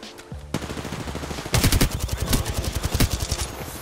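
Rapid bursts of gunfire ring out in Apex Legends, a loud close shot followed by repeated rhythmic volleys of automatic fire with no talk over them.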